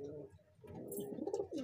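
Soft, low cooing from a pigeon close by, a gentle throaty burbling repeated a few times against a quiet background.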